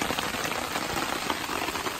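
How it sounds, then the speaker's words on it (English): Steady rain falls at a forest campsite, a dense even hiss of drops on surfaces throughout, close and continuous with no one talking. "We got ourselves some rain."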